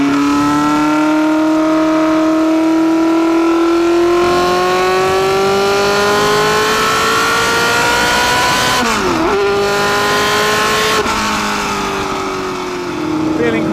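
A 1969 McLaren M9A race car drives at moderate pace, its engine note rising steadily through the gears with brief shifts and a dip around a chicane, loud and close throughout.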